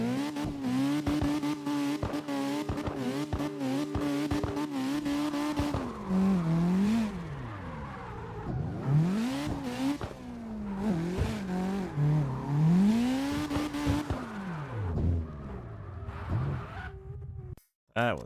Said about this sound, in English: this car's running a turbo, too